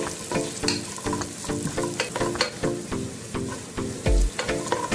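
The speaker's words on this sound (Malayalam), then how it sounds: "ഇതിലേക്ക് അരിഞ്ഞു വെച്ച സവാള ചേർക്കാം. സവാള ചേർത്തിട്ട് ഒന്ന് വഴറ്റിയാൽ മതി." Chopped onion sautéing in hot oil with whole spices for vegetable pulao, a steady close sizzle broken by repeated scraping stirs of a spoon against the pan, no talking.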